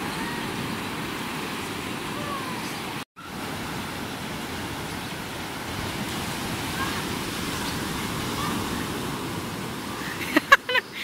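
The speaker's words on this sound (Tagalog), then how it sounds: "Ito palang waves ng La Union." Steady roar of ocean surf at a La Union beach, a continuous loud wash of breaking waves with one brief dropout partway through and a few faint knocks near the end.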